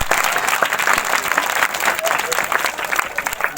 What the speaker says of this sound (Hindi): ताली बजाएंगे जोर से हालेलुया।